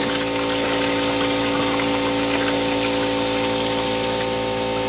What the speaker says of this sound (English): what I've concocted here is an air gun nozzle to a hose, to a fitting, and in one of the heater core pipes